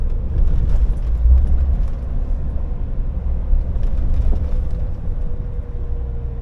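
Heavy truck engine with the engine brake engaged while driving on a Germany–Turkey run, giving a loud, steady low rumble with a faint whine throughout.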